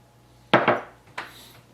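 A utensil knocks and scrapes against a small dish while dipping sauce is stirred, two quick close clatters followed by a softer tap, with no other sound.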